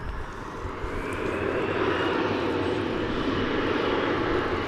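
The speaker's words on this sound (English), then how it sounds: "we have a gaggle of aircraft to take off here on the at runway 18 left." A jet airliner roars steadily while taking off from runway 18 left at DFW Airport, a loud broad engine rumble that holds evenly throughout with no voices.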